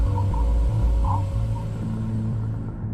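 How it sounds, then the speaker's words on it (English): Voyager 1 recording of the solar wind abruptly slowing against interstellar gas, heard as a steady, dense low rumble with faint warbling tones drifting above it, continuous and without voices. "This is the sound of the solar wind as it abruptly slows down from the pressure of interstellar gases."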